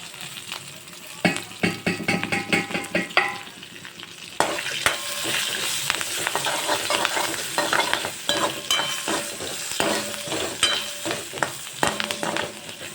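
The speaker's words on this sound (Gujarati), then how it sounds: "હવે આપણે બધા જ ખડા મસાલા મિક્સ કરી લઈશું" Whole spices, curry leaves and green chilli sizzle and fry in hot oil for a tempering. The sizzle is steady, with repeated scraping stirs and spoon clinks against the pan, and no talk.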